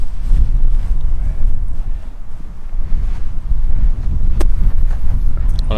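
Gusty wind buffets the microphone on an open golf course, a steady low roar rising and falling throughout with no talk.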